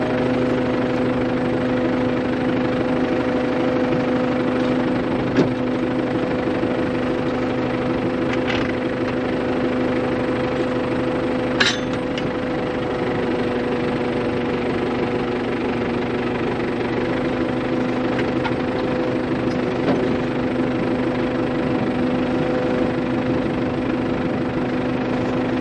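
An Allis-Chalmers 6080 tractor engine idles low and steady throughout with a constant rumbling hum and a few faint clanks, with no talking.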